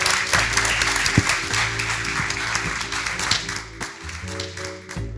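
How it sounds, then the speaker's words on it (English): An audience applauds art historian Dr. Jeffreen Hayes and artist Jae Jarrell at a talk, scattered clapping over a steady low hum, with a few sharper claps standing out. "Please give a round of applause for Dr. Jeffreen Hayes and Jae Jarrell."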